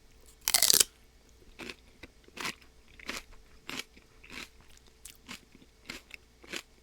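Crunchy celery with chili garlic sauce is bitten and chewed up close: one sharp loud bite followed by a steady series of quieter crunching chews, with no talking.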